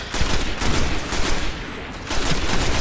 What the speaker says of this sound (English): maybe I'll explain in a moment when I'm not being shot at